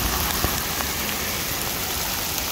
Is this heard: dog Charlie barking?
no